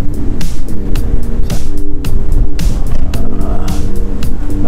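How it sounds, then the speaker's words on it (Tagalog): Strong wind buffets the seaside in a loud, constant roar, with gusts rumbling heavily throughout and no voices. "Malakas ang hangin sa tabing dagat."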